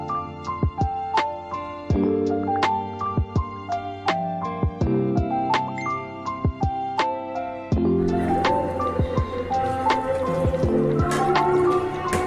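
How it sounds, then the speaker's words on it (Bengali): A small amount of water poured into fish curry prepared with turmeric, green chilies and a bay leaf, heard as close, irregular drips and plinks followed by a denser, continuous splashing trickle, with no talk. "খুবই সামান্য পরিমাণে জল দিলাম"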